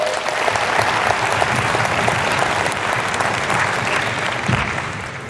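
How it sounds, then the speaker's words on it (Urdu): A large audience claps steadily and loudly, a dense continuous wash of applause from the start that fades only slightly by the end, with no speech over it. "20 منٹ چھوڑ دیں یہ تالیاں"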